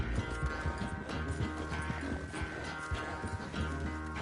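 Hooves of a galloping horse pounding in a video game race, rapid rhythmic thuds under a dense bed of game music and effects, loud and continuous.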